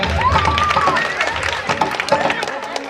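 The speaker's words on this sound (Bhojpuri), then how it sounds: "भैया अगर अच्छा लगा हो तो तालियां बजा दीजिएगा।" Audience clapping at a live Bhojpuri devotional stage show in Patna, brisk scattered claps mixed with crowd murmur and a voice rising over the din.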